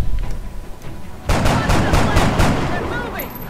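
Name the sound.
soldiers shooting in video game XCOM: Enemy Within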